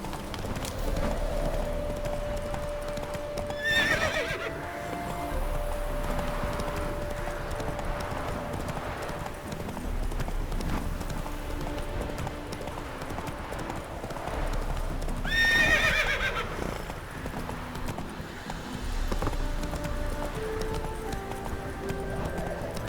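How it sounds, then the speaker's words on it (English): Roach, a horse in The Witcher 3, gallops with a steady stream of clip-clopping hooves, loud and close, with two sharp neighs standing out over the running. "That's it, Roach. Run, Roach."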